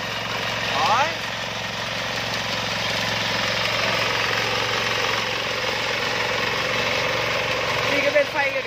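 Sakura 188 diesel tiller engine running steadily while forming furrows in a field, a loud continuous rumbling drone with a slight rise near the end.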